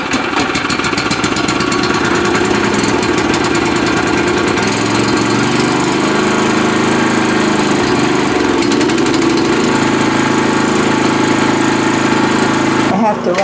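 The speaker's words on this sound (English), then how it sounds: "I have to run the generator outside because of the fumes." A generator engine runs steadily outdoors, loud and continuous with a rough mechanical drone throughout, while people talk over it at times.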